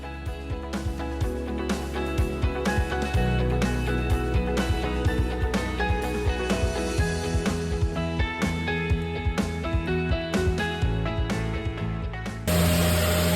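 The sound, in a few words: electric sander sanding wooden beams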